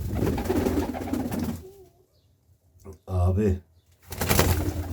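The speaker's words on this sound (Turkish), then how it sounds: "Abi her tarafın kuş doldu" Pigeons in a coop coo softly in a short burst between stretches of someone talking, close by and moderately loud.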